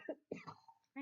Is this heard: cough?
yes